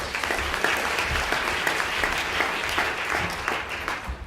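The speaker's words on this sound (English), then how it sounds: "applause, please" Audience applause at a talk, a dense steady patter of many hands clapping together, moderately loud and sustained throughout with no voices over it.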